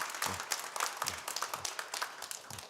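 A church congregation gives a quiet, patchy round of applause during a Sunday service. The clapping is soft and uneven and sounds somewhat distant.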